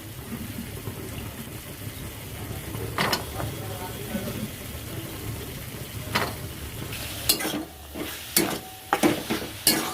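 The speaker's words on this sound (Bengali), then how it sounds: "ভালো করে কষিয়ে নেব মশলাটা" Masala frying in a pan with green peas while being stirred, a steady sizzle under scattered scraping strokes that grow louder and more frequent toward the end.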